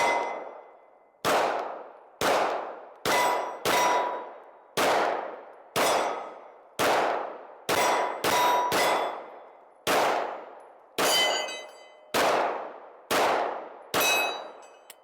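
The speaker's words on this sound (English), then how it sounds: "you can tell as I'm shooting the gun, you could feel it anyway, that there's all kinds of different ammunition in there" Springfield Armory XD Mod 3 pistol firing mixed ammunition, about fourteen sharp, loud shots at a slightly irregular pace, each with a ringing metallic decay and no talking.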